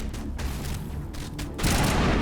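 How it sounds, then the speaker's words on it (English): An ally's gunfire in Mass Effect Legendary Edition, a steady dense clatter of shots with a louder surge near the end, heard amid game ambience. "He's shooting at something over there."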